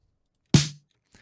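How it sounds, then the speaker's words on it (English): A single punchy 80s-style gated snare hit with a short, abruptly cut-off tail, dry and close, followed by silence. "And so I found an 80s style snare."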